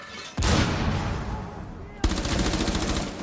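Gunfire in the Rainbow Six Siege video game: two loud, close bursts of rapid automatic shots, the first starting abruptly and running over a second, the second kicking in sharply, with no talk over them.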